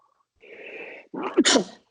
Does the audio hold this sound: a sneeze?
yes